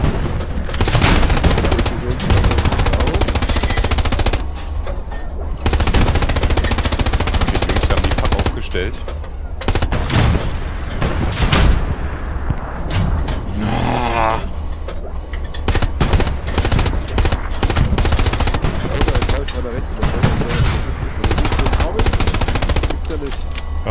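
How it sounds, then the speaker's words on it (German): Sustained automatic gunfire and heavy bursts aimed at a wall in the WWII shooter Hell Let Loose, loud and close, with rapid rattling volleys, booming impacts and brief pauses, while players talk over the shooting. "Schau mal, ich schieß mal da oben gegen die Mauer."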